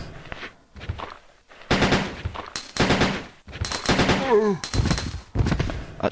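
Gunfire from the video game Resident Evil 2, with rapid bursts of shots and short gaps between them, mixed with game sounds and a brief voice.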